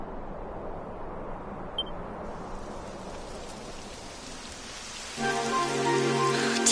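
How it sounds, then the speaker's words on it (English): Rain starts falling in the video game Dragon Quest XI, a soft, steady hiss of downpour with a brief chime early on, continuing under a character's voice that begins speaking near the end. "It would have to go and start raining, wouldn't it?"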